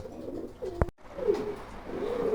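Soft, low pigeon coos repeat close by in a quiet space on a pigeon farm, with a brief click partway through.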